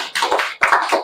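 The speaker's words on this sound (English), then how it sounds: "A round of applause for DMB." A classroom round of applause for a pupil at the board, two short bursts of dense clapping from a group of students, close and fairly loud.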